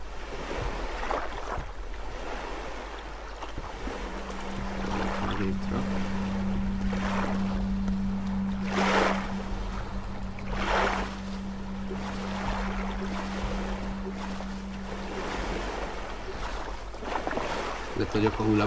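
Big ocean waves churn and wash continuously around a raft on open sea in the survival game Stranded Deep, with wind gusting over the water and a steady low hum running beneath.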